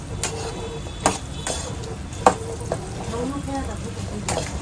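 Salt being mixed by hand-stirring into leftover khichdi batter for muthiya, giving soft scraping strokes with a few sharper knocks of the spoon against the bowl, close and steady.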